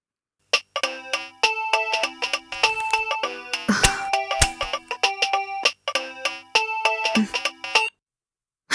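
A phone rings after a number is dialed, playing a loud, bright melodic ringtone of quick repeated notes for several seconds before cutting off.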